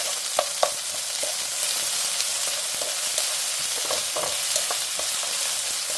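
Zucchini stir-frying in a pan makes a continuous loud sizzle, broken by scattered clicks and scrapes of a utensil moving the slices, with no voices.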